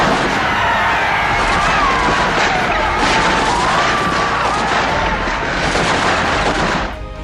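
Dense, continuous gunfire rattles loudly and unbroken for several seconds, a chaotic volley with crashing bursts before it cuts off abruptly.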